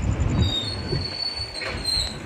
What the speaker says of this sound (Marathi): हे आपली रेल्वे खूप डोंगरातून आलेली आहे मित्रांनो